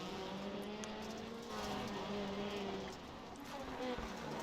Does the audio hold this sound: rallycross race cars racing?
yes